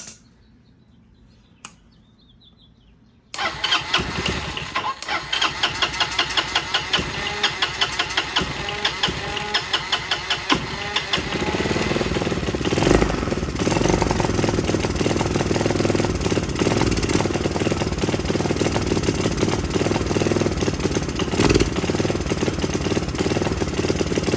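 A Honda Helix scooter engine cranks into life after a few quiet seconds, then runs loud and steady at a rough, uneven idle for the remainder, with no talking.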